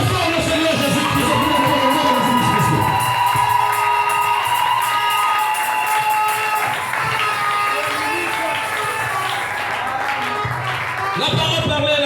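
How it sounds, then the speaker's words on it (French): A church congregation cheers and shouts loudly in praise of Jesus Christ. The noisy crowd keeps going across the whole stretch, with clapping, yells and children's voices mixed together, and music plays beneath it. "On acclame très fort le Seigneur Jésus-Christ."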